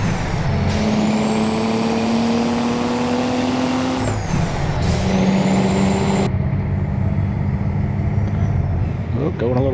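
A Freightliner FLD 120 truck drives in American Truck Simulator, its engine droning loudly with rising pitch through the gears, a whine climbing and dropping, a pause mid-shift, then a steady run.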